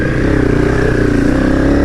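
Honda CRF300 trail motorcycle with a stage 4 setup, ridden on a trail: a loud, close, steady engine drone with a pulsing buzz throughout.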